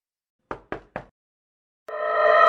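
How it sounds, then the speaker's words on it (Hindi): Three soft, evenly spaced knocks on a door in a horror story, sharp and dry against silence, followed by a rising eerie tonal drone. "फिर दरवाजे पर किसी ने बहुत धीरे से 3 बार दस्तक दी।"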